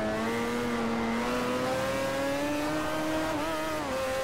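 A rotary-engined 2008 concept race car in Forza Motorsport 4 revs with a rough, buzzy drone, its pitch climbing steadily and then dipping near the end, loud and continuous with no talk.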